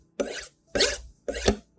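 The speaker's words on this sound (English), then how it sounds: "sharpening one side, flip it over and sharpen the other side in the same way." Three separate strokes of a kitchen knife drawn across a sharpening stone, each a rasping scrape of roughly a quarter to half second with short pauses between, close and fairly loud with no talking.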